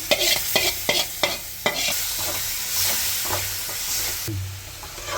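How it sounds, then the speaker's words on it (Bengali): A blended paste of tomato, salt, turmeric and chili powder sizzles in a pan for a hilsa-head and taro-stolon curry, with several sharp scraping stirs at the start giving way to a steady frying hiss. "মশলাটা ভালো করে কষাই নিব।"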